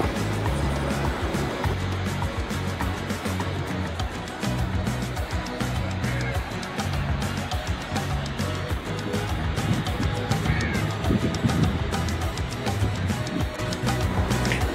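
Surf rolls and crashes steadily where Paravur lake water flows into the sea, a constant broadband wash of waves with wind, fairly loud and close, and no clear talk.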